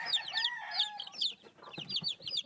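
Young chicks on a farm give rapid, high peeping calls in overlapping bursts, with a few lower clucks beneath, close and fairly loud with no talking.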